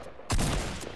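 A single loud, close sniper shot in the video game Fortnite, a sharp crack with a brief rumbling tail, heard alone after a moment of quiet.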